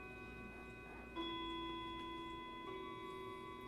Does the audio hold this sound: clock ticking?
yes